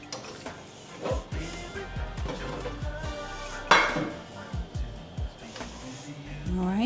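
Diced, drained tomatoes being stirred in a skillet, with a utensil clinking and scraping against the pan in quick, irregular strokes and one sharper clank midway, heard close.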